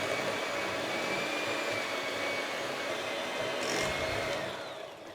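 An electric mixer blends soft butter and sugar for a rhubarb custard traybake, giving a steady, continuous motor whine that stays even for several seconds and then eases off slightly, close by with no speech.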